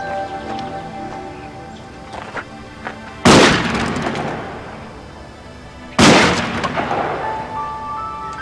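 A shotgun chambered for 2 3/4 inch shells, loaded with a 3-inch shell, fired during outdoor target shooting: two loud, sharp blasts a few seconds apart, each trailing off in a long rumbling decay, with no voices.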